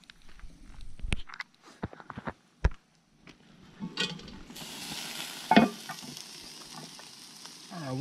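Ground picadillo meat browning in a Dutch oven set on campfire coals, with scattered knocks and utensil clatter at first, then a broad, steady sizzle building partway through; moderately close, no talking.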